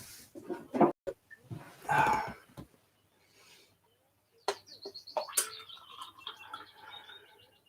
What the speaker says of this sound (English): as expected, here's the birds.